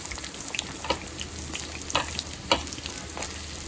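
Onions frying in hot oil with mustard seeds and urad dal, a soft continuous sizzle broken by a few sharp scraping strokes of a spoon as they are stirred in the pan.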